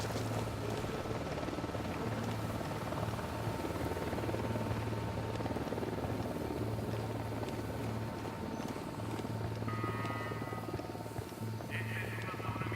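In the video game Ghost Recon Wildlands, a helicopter flies overhead. Its rotor thrum drones steadily and fairly loud throughout, with faint game sounds beneath and a brief chirp near the end.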